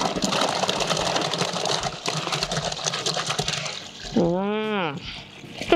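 Water gushes steadily from a pipe as tomatoes are washed outdoors on a farm, a continuous loud rushing splash. Near the end a person's voice rises briefly over it.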